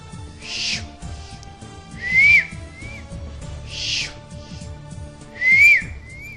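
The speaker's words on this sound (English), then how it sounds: "As soon as the whistling noise is heard" Several airy whistles come in a slow repeating pattern, some sliding upward in pitch, over a low rumbling background with no talking.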